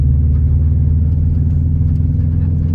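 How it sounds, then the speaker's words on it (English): A manual stick-shift car's engine rumbles low and steady from inside the cabin, a loud continuous drone with only slight rise in pitch as it speeds up, with no voices. "speed up and try to go into second gear."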